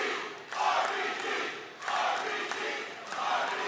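A wrestling crowd at a PCW Ultra match roars and cheers in steady broad swells, with loud surges near the start and again around the middle and end of the clip.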